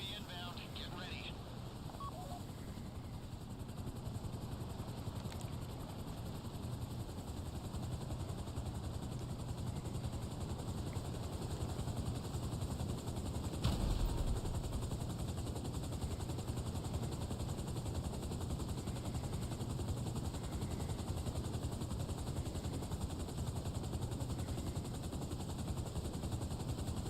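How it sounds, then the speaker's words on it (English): Helicopter in GTA Online, a steady, continuous rotor drone that holds for nearly half a minute. Talk runs over it, and one sharp burst lands midway. "Chopper should be inbound."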